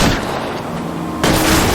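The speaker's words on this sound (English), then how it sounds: "I'm trying to shoot out his tires" Gunshots boom close and loud in L.A. Noire as a detective fires at a fleeing car's tires during a chase, two heavy blasts with rumbling engine noise between them.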